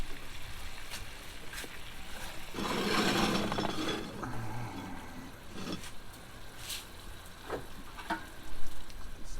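Pork chops fry in a cast iron skillet with a soft crackling sizzle, scattered pops and a louder swell of frying noise as the skillet is turned, a few light clinks in between.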